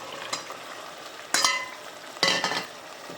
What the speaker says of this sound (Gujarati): મસાલાને સરખી રીતે પાકવા દેવાનો ધીરે ધીરે